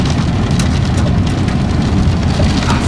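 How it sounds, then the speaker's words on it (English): Rain patters densely on a car windshield in a continuous close hiss, with the low rumble of the car beneath, during a tornado storm southwest of Moose Jaw, Saskatchewan. "Frickin' rain on the windshield window."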